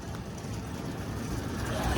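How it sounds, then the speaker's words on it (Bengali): Road vehicles pass near Khalitipur railway station on a foggy morning, making a continuous low traffic rumble that swells toward the end. Someone talks faintly over it. "দেখো তোমরা অনেক গাড়ি যাচ্ছে এখন"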